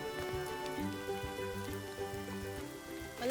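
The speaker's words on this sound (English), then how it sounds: "even though the rains arrived, there's no chance of shelter" Rain patters onto surfaces in a Welsh churchyard at St Gwynno's Church, Merthyr Tydfil, a soft, steady scatter of drops with faint tonal ringing in the background.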